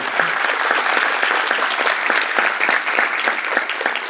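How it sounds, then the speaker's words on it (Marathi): Loud, sustained applause from a crowd, dense rapid clapping that continues evenly throughout without any speech. "मोठ्याने टाळ्या वाजल्या पाहिजेत।"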